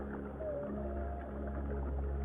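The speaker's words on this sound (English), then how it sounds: "This is the song of a humpback whale." A humpback whale sings underwater, long low melodic moans drifting faintly over a dense, constant rumble of the deep ocean, with no voices present.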